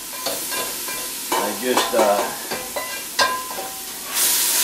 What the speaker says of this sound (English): in goes the beef, or the bison rather. Pan, you can hear, is already hot.